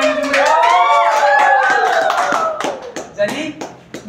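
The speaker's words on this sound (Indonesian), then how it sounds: "Beri tepuk tangan dulu." Applause from a classroom group during a guitar lesson, a dense patter of hand claps with a voice over it at first, then thinning to scattered claps near the end.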